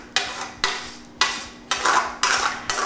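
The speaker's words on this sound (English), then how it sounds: "scoop a nice big spoonful of this yumminess into your colander and scrape it down" Spaetzle dough scraped through a fine mesh metal colander with a spoon, six loud rasping metallic strokes in a steady rhythm, each a short scrape with pauses between, close up and without talk.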